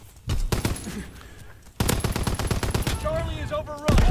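Bursts of Stinger LMG fire in Call of Duty WW2 on the Shipment 1944 map rattle out loud and close in rapid sustained volleys, broken by a short gap, with in-game voices calling out over the shooting.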